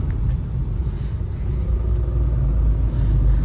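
A classic Rover P4 engine rumbles steadily and loudly on a drive, a deep, continuous low drone with no voices over it.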